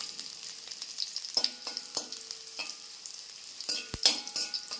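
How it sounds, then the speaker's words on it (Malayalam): Dried red chillies and shallots crackle in oil as a tempering for ponnanganni spinach thoran. A soft sizzle is broken by repeated spoon scrapes and clinks against the pan. "ഈ ചെറിയ ഉള്ളി നന്നായിട്ട് മൂക്കണം"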